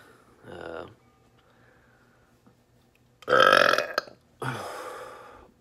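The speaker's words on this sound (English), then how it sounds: "Collagen burp from the inside" Several loud, close burps ring out after drinking beef bone broth, a short one first and then two long, rumbling belches near the end.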